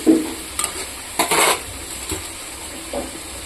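Radish greens are tossed into radish pieces frying in a pan, giving a few loud scraping stirs and a sizzle that rises for a moment and then settles into a quieter fry.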